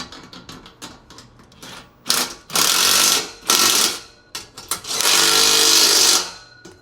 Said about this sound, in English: Now we're just going to go ahead and tighten down these nuts right here.